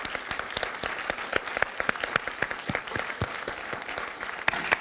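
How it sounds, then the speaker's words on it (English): Audience at a university panel symposium giving a round of applause, with sustained, lively clapping and distinct sharp individual claps, with no one talking. "I want to have a big round of applause."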